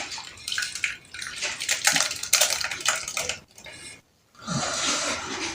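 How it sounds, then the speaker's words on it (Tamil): Herbal juice of Bermuda grass and banana poured out in a steady, splashing stream, running for a few seconds, breaking off briefly, then resuming. "இப்போ பாருங்க, இதை நான் உங்களுக்கு ஊற்றினதா பாருங்க."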